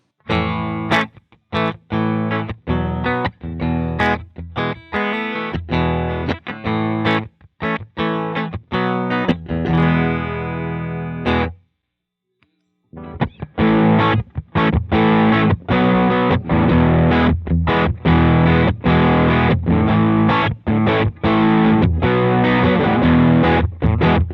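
An electric guitar played through a Tom'sLine Vintage Overdrive pedal at noon settings plays crunchy, distorted chords and riffs, with one brief silent pause before the playing resumes.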